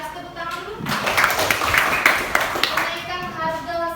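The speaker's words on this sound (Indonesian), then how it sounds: "Kasih tepuk tangan dulu." A classroom of students claps together for a classmate, a short burst of hand clapping over voices and chatter, with a voice heard around it.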